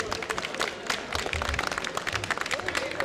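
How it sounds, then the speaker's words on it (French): An audience at an association's anniversary evening applauds steadily, with many hands clapping at once and some crowd voices underneath. "vous pouvez encore applaudir avec vos deux mains"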